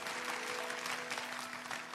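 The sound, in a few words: congregation applauding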